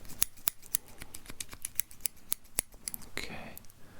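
Very small, delicate scissors snip close up in a steady run of about ten crisp, quiet cuts, ending with a soft rustle.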